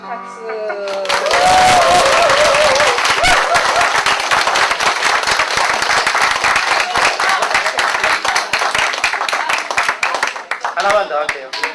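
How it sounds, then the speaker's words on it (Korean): A concert audience breaks into loud, close, sustained applause and whistles after a brief sung phrase, with voices rising through the crowd and a short musical flourish near the end. "박수."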